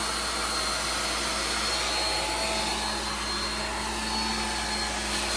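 A blow dryer runs steadily at close range, blowing hot air to heat-shrink the plastic bag wrapped around a Mother's Day gift basket. It gives one continuous, even whoosh with a faint tonal whine and no talk.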